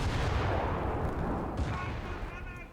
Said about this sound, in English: Opening up with the AA guns.